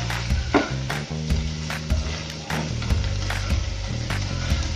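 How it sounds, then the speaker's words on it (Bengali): Spices with salt, black pepper and Kashmiri chilli powder sizzle in a pan for egg korma, while a utensil scrapes and stirs with repeated close knocks against the pan. "এগুলো দিয়ে আমি ভালো করে এবার কষিয়ে নেব।"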